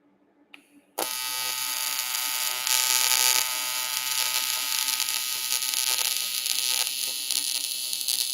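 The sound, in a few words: TIG welding aluminum outside corner with filler rod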